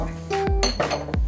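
Utensils clinking and scraping against a bowl while marinated chicken salad with cheeses is mixed, several sharp close knocks and rattles in quick succession.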